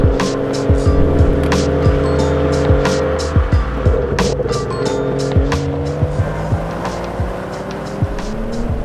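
A 2018 BMW M240i coupe with a six-speed manual is driven. Its engine drones steadily, with pitch rising and falling through the gears, and road and tyre noise runs underneath. Nobody speaks.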